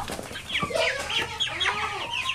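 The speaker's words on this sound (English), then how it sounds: "So there's our week seven update on our meat chickens." Meat chickens near butchering age cluck and chatter in their coop, with several overlapping calls rising and falling close by and no voices.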